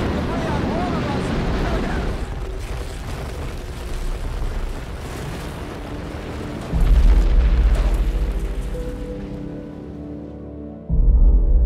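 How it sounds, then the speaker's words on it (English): A deep, loud boom rumbles amid heavy debris falling like rain at the World Trade Center, sustained roaring and pattering with a renewed low surge near the end. "A huge explosion now raining debris on all of us."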